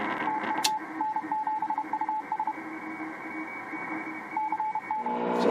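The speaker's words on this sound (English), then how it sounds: "here's some daytime noise on 80 meters. Pretty nasty." Daytime noise on the 80 meter amateur band comes through a radio receiver as a harsh, steady hiss and buzz, with repeated short beeping tones mixed in, at a moderate level.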